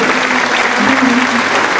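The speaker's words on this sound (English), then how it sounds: "A round of applause for him." An audience at a quiz-style contest applauds a contestant, a brief, loud, steady burst of many hands clapping with a faint voice murmuring beneath it.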